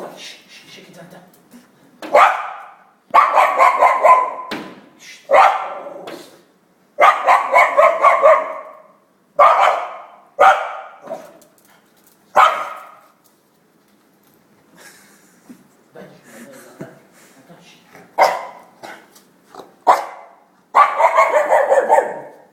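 Two or more dogs bark and snarl in a fight, with repeated loud bursts of close barking separated by short pauses and some whimpering yips, as a voice is heard between the outbursts.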